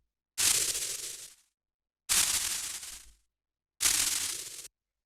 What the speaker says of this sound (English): After that we have this little noise percussion which sounds like this.